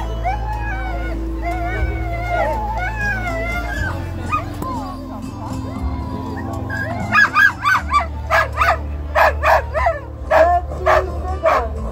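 Sled dogs at the start of a mushing race stage at La Chapelle-d'Abondance in snowy mountain country bark, yip and whine close by, with a run of sharp rhythmic barks near the end over a low engine-like hum.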